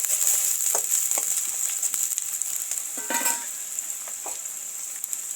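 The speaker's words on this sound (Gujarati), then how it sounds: "આ સમારેલી ડુંગળી નાખી દઈશું. તેને પણ સરસ રીતે સાતળી દઈશું." Chopped onion sautés in hot oil with garlic in a pan, a steady bright sizzle and crackle close by, with faint stirring clicks and no voice.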